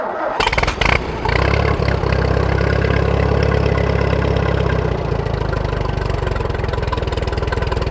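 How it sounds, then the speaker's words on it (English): A small engine on a hay-baling setup is cold-started with the choke out and the pull starter. After a brief sputter of cranking it catches and settles into a loud, close, steady idle that keeps running without talk. "We'll pull out with the choke and with the starter at the same time because it's a cold start."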